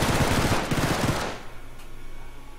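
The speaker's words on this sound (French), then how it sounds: "j'ai entendu des coups de feu dehors" A rapid burst of automatic gunfire in a video game rattles loudly for over a second, then cuts off, leaving a faint low hum.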